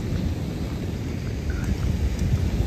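Steady rain from the remnants of a storm falls in Yauco, Puerto Rico, beside a river, a continuous dense hiss and patter with no talk.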